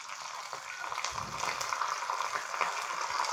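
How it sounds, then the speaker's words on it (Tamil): Curry leaves crackle and fry in hot oil for a Kumbakonam-style kadappa, a soft, steady sizzle with faint popping and a low stir, quiet and close with no talk. "கருவேப்பிலை நல்லா பொரிஞ்சிட்டு இப்போ இதில் சேர்த்துக்கலாம்."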